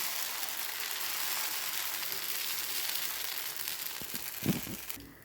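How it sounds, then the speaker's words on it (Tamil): Dosa batter sizzles in oil on a hot griddle, a steady close hiss that lasts throughout, with a few louder crackles and pops toward the end. "இப்போ நம்ம தோசை ஊற்றி ட்ரை பண்ணி பார்க்கலாம்"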